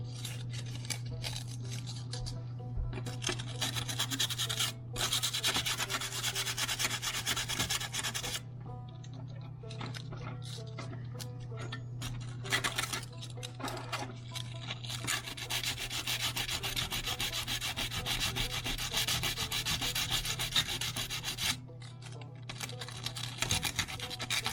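Close, steady abrasive rubbing as copper contacts on an automotive fuse panel are sanded, continuous scratchy friction for the whole stretch with short pauses and a constant low hum underneath.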